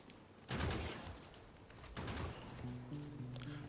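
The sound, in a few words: gun turrets firing in Factorio video game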